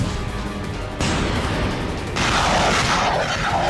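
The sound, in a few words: Russian artillery fire and missile strikes on Ukraine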